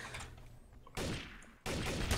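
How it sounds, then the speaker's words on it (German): Bursts of gunfire from a first-person shooter round of Trouble in Terrorist Town, two loud broadband volleys cutting in after a quieter stretch, with no talk over them. "Schüsse?"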